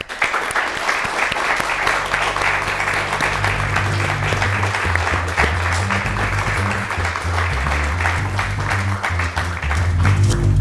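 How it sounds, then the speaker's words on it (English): Sustained applause from a live conference audience at a writers' event in Florida, dense steady clapping filling the room throughout with a low musical bed underneath. "give yourselves a round of applause"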